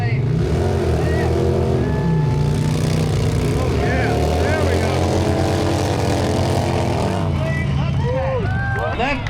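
Cars in a drag race at a smokeout rally, loud engine roar and revving from the vehicles over a noisy crowd babble, with whistles and tire-like squeals near the end.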